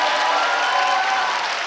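Audience on a Korean TV singing show breaks into applause, a smooth, even roar of many hands clapping close and loud for the whole short stretch, with no talking over it.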